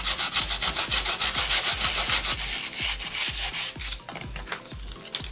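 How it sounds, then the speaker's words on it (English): Old packaging sanded by hand in rapid rhythmic back-and-forth strokes, a close, scratchy rasping that slows and softens toward the end. "I'm just going to kind of just sand it down a little bit."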